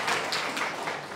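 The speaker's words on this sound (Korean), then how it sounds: "박수" A congregation in a church gives a short burst of applause, a dense, steady patter of many hands clapping at moderate loudness that lasts about a second.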